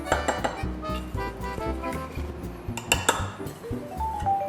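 Seasoning with salt and black pepper is stirred in a bowl, giving a steady run of clinks, taps and scrapes, close and moderately loud, with no talk.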